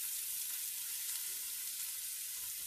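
Onions sizzling steadily in a hot pan while a keto tomato sauce is made, a continuous close frying hiss with no talking.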